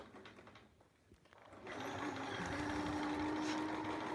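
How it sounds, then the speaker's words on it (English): A sewing machine stitches a zipper pouch, with a few soft handling sounds first, then a steady close mechanical whirring hum that runs continuously to the end. "this is kind of pushing the fabric down a little bit as I sew"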